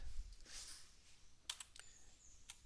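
Computer keyboard keys pressed during video editing, a handful of quiet, sharp clicks spaced irregularly, fairly close but faint over low background noise.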